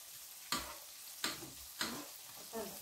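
Salmon frying in butter in a pan gives a faint, steady sizzle, broken by three or four sharp scraping stirs at regular intervals, with no talk.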